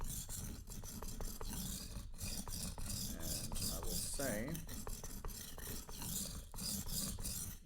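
A knife is sharpened on a new Suehiro whetstone, making close, rhythmic rasping strokes back and forth, loud and gritty, with a brief spoken remark partway through.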